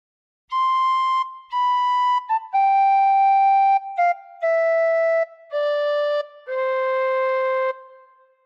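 A tin whistle plays the descending opening phrase of Joy to the World, clear pure notes stepping down one after another with short gaps, close and fairly loud, with nothing else heard.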